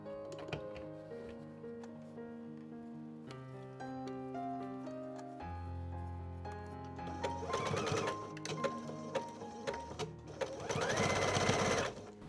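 A sewing machine stitches a fabric casing for elastic, starting with a slow whirring of shifting tones, then running faster in loud, rattling bursts of rapid needle strokes near the end.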